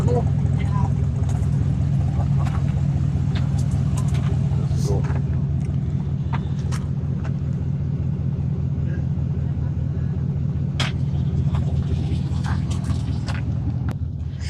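An old convertible car, fixed up, with its engine running nearby as a steady low rumble throughout, with faint talk and a few clicks over it.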